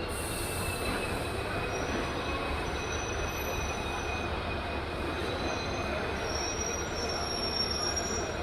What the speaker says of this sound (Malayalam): ഹാസൻ റെയിൽവേ സ്റ്റേഷനിൽ നിന്നും വീണ്ടും പുറപ്പെട്ടിരിക്കുകയാണ്